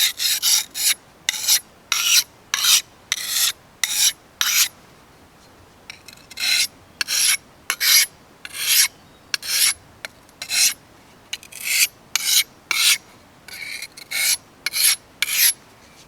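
An old hickory butcher knife is drawn in repeated rasping strokes across the coarse red side of a sharpening puck, each scrape a short bright burst in steady rhythm, with one brief pause partway through, close and clear with no talk.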